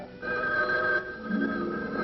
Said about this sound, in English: it was much too early in the morning to listen to the jangling of a phone bell